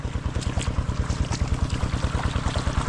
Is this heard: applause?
no